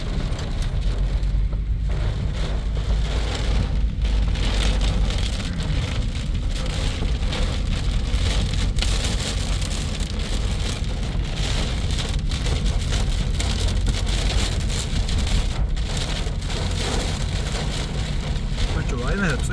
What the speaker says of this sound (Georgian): ისე წვემაში ვართ